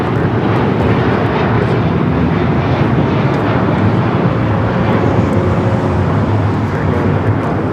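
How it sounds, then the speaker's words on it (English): An American Airlines Boeing 777-200ER taking off from Los Angeles produces a loud, unbroken engine roar, dense and steady throughout with some wind buffeting on the microphone. "That is American Airlines Flight 136 taking off to London Heathrow on the 777-200ER"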